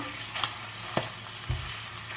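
Tomato paste and pepper paste sautéing in hot oil, a soft continuous sizzle with a low hum beneath it and a few distinct spoon taps against the pan, close and quiet, with no voices.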